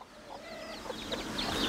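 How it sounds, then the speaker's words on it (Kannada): A country hen guarding a brood of twelve chicks gives soft, repeated clucks, with faint high chick peeps scattered around, all quiet and close outdoors. "ಒಂದು ಕೋಳಿ 12 ಮರಿನ ಕಾಪಾಡ್ತಾ ಇದೆ."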